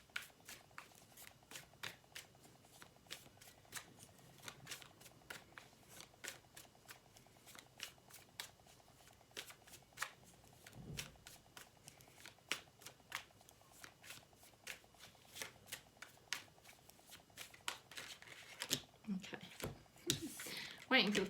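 Tarot cards being shuffled in a repeated run of crisp riffles and flicks, moderately close and fairly quiet, with a short stretch of speech partway through and a brighter burst of shuffling near the end.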